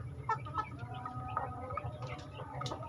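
Hens in a small backyard flock are given their breakfast of home-mixed fermented feed, with soft, scattered clucks and short calls over a low, steady background.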